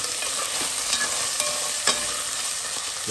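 Herring sizzles steadily in hot oil for Réunion-style rougail, a continuous close crackle with a few light stirring clicks and no talking.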